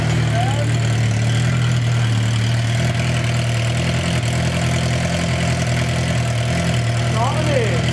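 Motorcycle with a slip-on Moto GP1 exhaust and large end cap idling close by, a loud steady low rumble with slight throttle wavers and a brief blip near the end.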